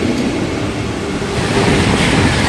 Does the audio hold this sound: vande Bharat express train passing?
yes